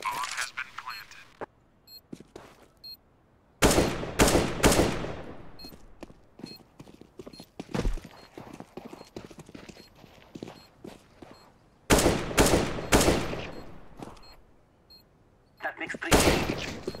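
Gunfire in a video game live stream comes in several sharp rapid-fire bursts separated by quieter gaps. Softer scattered shots and faint voices fill the pauses.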